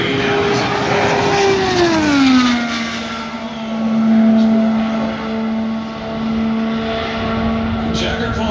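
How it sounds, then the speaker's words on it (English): An IndyCar race car at Indianapolis on a final qualifying lap howls past loudly, its engine note dropping as it passes, then a sustained high drone carries on from the distance. "This is the final lap for Will Power. He's already through turn three."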